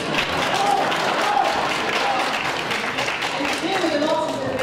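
An evening audience in a formal hall at a French-speaking guest introduction claps in a continuous, busy patter, with voices murmuring beneath the applause.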